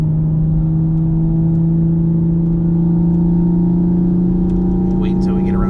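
A tuned Toyota GR Supra with JB4 tune, intake and MXP catted downpipe drones steadily at a loud, even engine pitch from inside the cabin. It holds a low hum without a clear rise, and a voice talks briefly near the end.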